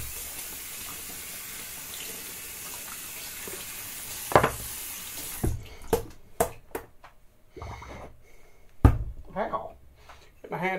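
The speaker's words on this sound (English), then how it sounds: "Let's get the brush wet." Running water from a bathroom sink tap wets a shaving brush, a steady splashing stream for several seconds, then clatters, drips and handling noises as the water stops and the brush is worked.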